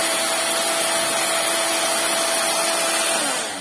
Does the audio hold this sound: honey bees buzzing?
no